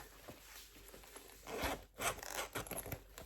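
A small zipper is pulled in short scratchy runs, close and quiet, with a few soft rustles between strokes.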